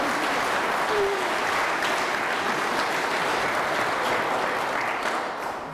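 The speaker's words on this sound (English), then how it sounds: "I think that deserves a big round of applause" Guests at a wedding hand-fasting ceremony give the couple a long, even round of applause, dense and continuous before tapering slightly at the end.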